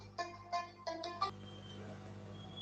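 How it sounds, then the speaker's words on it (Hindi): A phone rings with a short series of bright electronic tone bursts, four or five quick pulses in a row, fairly faint, then fades out with no talking. "एक सेकंड फोन आ रहा है"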